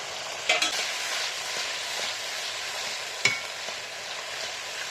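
Ginger paste being stirred into spiced masala frying in oil for a Bengali pabda fish curry: a steady hiss of frying with a couple of sharp scrapes of the spoon against the pan, close and fairly loud, no talk.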